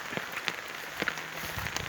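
Rain falls steadily on a garden where grass is being cut, a soft continuous patter with a few sharper drops landing close by, fairly faint throughout.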